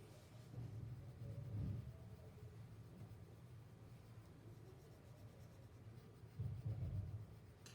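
A pencil is scraped back and forth across paper with very heavy pressure while shading a box, a soft, steady, close rasping scratch with a few louder strokes.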